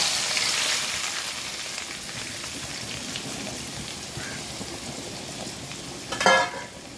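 Chopped ingredients hit hot oil with spluttering mustard seeds, producing a steady dense sizzle and crackle like rain that holds throughout, with a brief louder clatter near the end.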